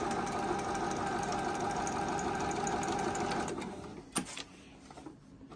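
A Juki HZL-009 sewing machine runs steadily for several seconds with a dense mechanical hum and rapid stitching clatter. It then winds down and stops, leaving a few faint knocks.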